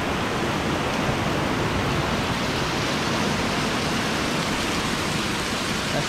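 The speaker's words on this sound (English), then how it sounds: "It's raining pretty good right now. Look at that rain." Heavy rain pours down outdoors in a dense, unbroken hiss that stays loud and even throughout, with no voices over it.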